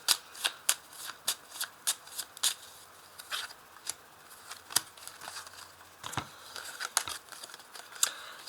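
Tarot cards are handled and shuffled close by, with a run of crisp rhythmic flicks and riffles, then looser slides and taps as the cards are set down.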